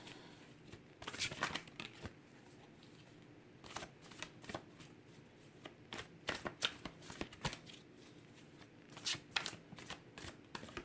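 Tarot cards are handled and cut into stacks on a table, giving close, irregular bursts of crisp card flicks, slaps and shuffling riffles with brief pauses between.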